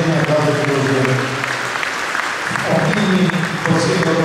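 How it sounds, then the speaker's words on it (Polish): Audience applause at an Olympian Day ceremony in Lipiany, a broad steady clapping from a crowd that swells again near the end, with a speaker's amplified voice running over it. "Jeszcze raz olbrzymie brawa, szanowni państwo"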